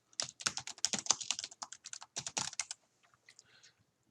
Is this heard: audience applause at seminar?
no